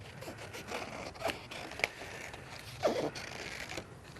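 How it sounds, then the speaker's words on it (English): Scissors snipping through plain card to cut out a tree or hill line, giving a few short scraping, crunching cuts at close range with no talk, fairly quiet overall. "a pair of scissors, and cut myself a little tree line"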